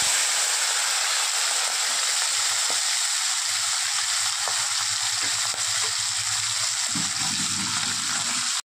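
Katla fish fat fries in oil in a wok, a loud, dense, continuous sizzle and hiss heard up close, with a few faint clinks near the end.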